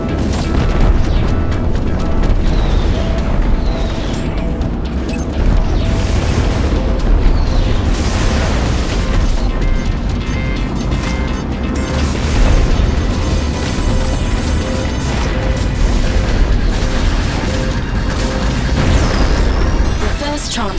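Explosions of a transport ship in the space combat game Strike Suit Zero, a continuous heavy rumble of booms and bursts layered over game music, loud and sustained throughout.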